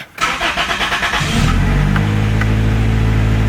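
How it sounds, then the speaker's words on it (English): A 1997 Toyota Corolla cranks with a rhythmic whirring starter for about a second, then catches and fires into a loud, steady idle, recorded close to the car. "And we'll start it and see what happens."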